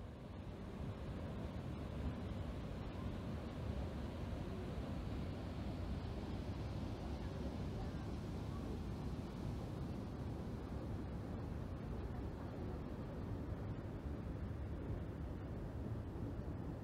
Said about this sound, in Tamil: அந்த வாட்டர் ஃபால்ஸ் அந்த தண்ணி சவுண்ட் எல்லாம் கேளுங்களேன்.